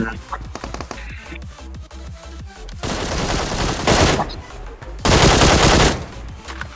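Gunfire from the mobile battle-royale game PUBG Mobile: scattered sharp shots, then two loud sustained bursts of rapid automatic fire, with faint voices beneath.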